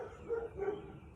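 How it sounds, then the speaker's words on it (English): Neighborhood dogs bark a couple of short, muffled times from a distance outdoors, faint against a quiet background. "Yeah, we got Dogs in the Neighborhood."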